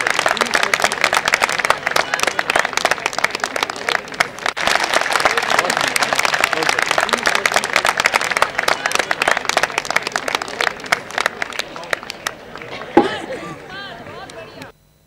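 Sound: audience applause at book launch

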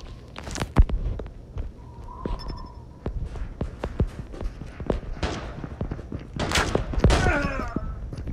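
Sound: gunfire in video game Call of Duty Mobile

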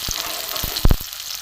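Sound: frying onions in white oil

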